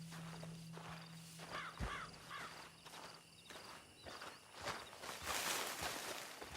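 Horse hooves clip-clopping in the video game Red Dead Redemption 2, with soft, irregular steps at a moderate distance over a steady outdoor ambience with insect chirps and a low hum at the start.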